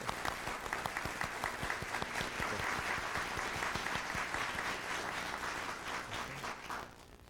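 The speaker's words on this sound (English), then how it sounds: "Let's give her a round of applause." A sustained round of applause from an audience at a NASA awards ceremony, many hands clapping steadily for several seconds before tapering off.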